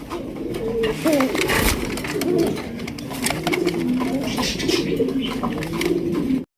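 Sirazi pigeons coo repeatedly in soft, rolling calls, close and overlapping, against a busy background of fluttering and faint noise, with some voices underneath.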